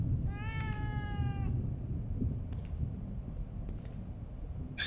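A single clear cat meow in The Evil Within 2 video game, lasting about a second, followed by a quiet ambient background with a few faint clicks.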